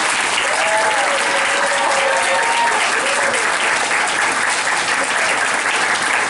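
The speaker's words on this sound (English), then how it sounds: "And I really want to give a big round of applause to them." Loud, sustained audience applause fills the room for a ballroom dance cast after a Great Gatsby stage production, steady dense clapping with a few faint cheers throughout.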